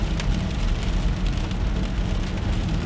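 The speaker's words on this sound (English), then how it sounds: "It does rain here in Dubai a little bit" Steady rain pours down in Dubai on an early morning back street, a dense, continuous hiss of drops hitting the ground with a low rumble beneath, loud and close throughout with no voices.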